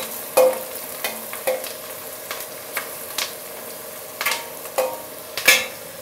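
Fish curry base with turmeric frying in a pan, a low steady sizzle broken by a series of sharp scraping stirs at irregular intervals, close by with no talk.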